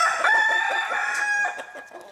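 A rooster crows a long, drawn-out call over clucking chickens, loud and close.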